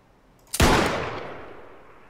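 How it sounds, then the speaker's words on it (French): A single sharp, loud video game explosion blast erupts in ARMA 3, followed by a long rumbling tail that slowly fades away, with no voices. "Je sais pas si vous avez entendu le bruit après l'explosion. Je vous la refais."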